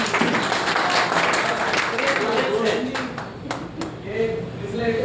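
Audience applause at a K2 Chemical company meeting: a steady, dense round of many hands clapping throughout, with voices talking over it.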